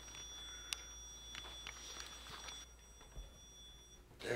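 A few short electronic beeps, faint and spread out over a quiet, hissy background, ending with a brief burst of noise.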